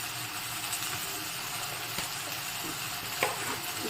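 Mixed vegetables sizzle steadily in a hot pan while sautéing for a Tamil tamarind curry, a soft continuous frying hiss close up with a faint stir or clink near the end and no voices.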